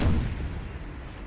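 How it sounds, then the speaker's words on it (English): Howitzer artillery fires in an American Civil War video game, a single deep boom at the start that rolls off into a long low rumble, fairly loud with no voices over it. "I think we'll let them fire one more time."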